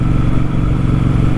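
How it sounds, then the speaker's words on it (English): Triumph Speedmaster motorcycle engine and exhaust rumble steadily and loudly from close range while riding behind a car on a December road, a dense low throb with no talk. "this engine just sounds glorious"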